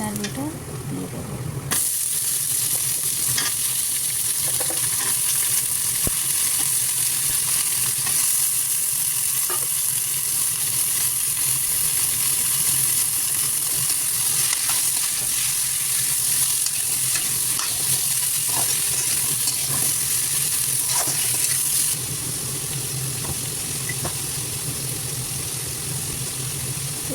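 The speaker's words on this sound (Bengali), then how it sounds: "ভালো করে ভেজে নিয়ে ডাঁটা আলুটা দিয়ে দেবো।" Drumstick stems and potatoes frying in a pan with onion and garlic, a loud, steady hiss of sizzling oil with occasional scrapes and knocks of stirring, running continuously and easing slightly near the end, without speech.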